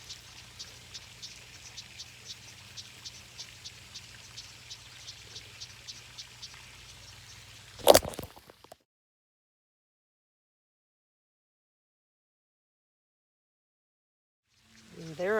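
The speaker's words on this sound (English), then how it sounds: "And there are the bullfrogs." Frogs croaking outdoors on a summer day, likely bullfrogs, as a steady run of regular pulsing calls over a low background hum. The chorus ends abruptly after a sharp knock, followed by near silence.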